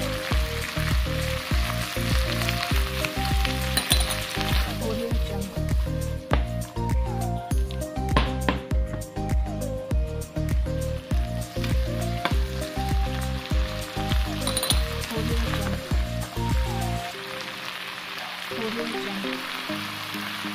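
Garlic and fiddleheads sizzle steadily in a pan, a continuous frying hiss under music-like tonal layers that runs throughout before easing slightly near the end.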